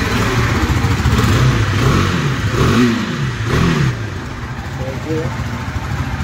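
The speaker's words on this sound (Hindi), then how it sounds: "अभी बात करते हैं इसके एग्जॉस्ट साउंड की, जो मैंने कहा था काफ़ी अच्छा है, काफ़ी लाउड है।" A 2022 KTM RC390 motorcycle starts and its loud exhaust burbles and revs in a few rising and falling swells close by, with someone talking over the engine.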